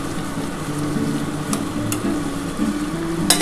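Bhola fish curry with potato, onion, tomato and coriander leaves being stirred and mashed in a pan, a continuous soft sizzle with scraping and a few sharper clinks of the utensil, close up and alone.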